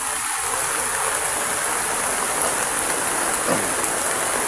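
Rain pouring onto a stream in a gold-panning area, a dense steady hiss of drops over rushing water, close and constant for the whole stretch.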